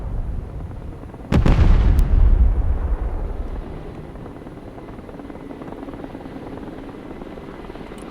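A Chinook helicopter in the video game Broken Arrow sounds with a sudden loud burst of heavy rotor thump and blast, then settles into a steady fainter rotor drone.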